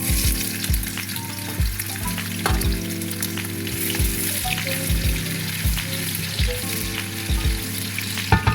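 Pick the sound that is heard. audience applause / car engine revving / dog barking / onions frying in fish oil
onions frying in fish oil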